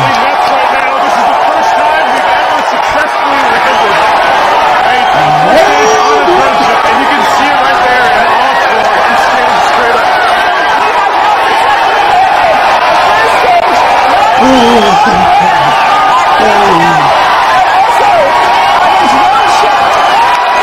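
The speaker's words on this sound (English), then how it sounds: "The crowd is going ecstatic." Large crowd at a SpaceX CRS-8 rocket barge landing, sustained loud cheering, whooping and applause filling the whole stretch, with occasional shouts rising above the roar.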